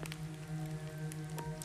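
Rain in a survival video game, a soft, steady patter of drops on surfaces with a few sharper taps standing out, fairly quiet and with no voices over it.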